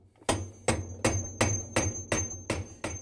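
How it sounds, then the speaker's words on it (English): A hammer strikes the hub nut on a GE washer's tub, eight sharp metallic blows in an even rhythm about every third of a second, loud and close, with a faint ringing tone between hits. "So we're going to use a hammer and pound it loose."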